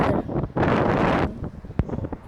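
Gusty wind buffets the microphone during a windy landing of a lightweight aircraft, coming as loud roaring bursts that rise, drop away and return.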